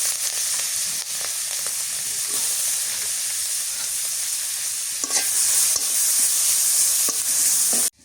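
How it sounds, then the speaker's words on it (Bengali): Green chillies and chopped onion fry in hot oil in a village kitchen, a steady loud sizzle running throughout with occasional scraping stirs and a brief surge near the end. "এখন হচ্ছে মরিচ পেঁয়াজ তেলানি করে নিই। এই তেলের মধ্যে দিয়ে দিই মরিচ"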